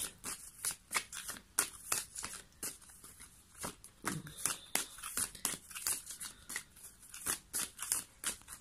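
Tarot cards are shuffled by hand at close range, making a quick, steady run of crisp riffling snaps and soft papery slides. The sound is fairly quiet and repeats rhythmically throughout.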